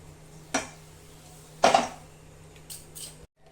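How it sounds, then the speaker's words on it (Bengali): A metal wok clanks down onto a stovetop for frying stuffed spiny gourd filling, with a lighter knock before it and a few faint metallic taps afterward. "কাঁকরোলের পুরটা ভাজার জন্য কড়াইটা বসিয়ে দেব।"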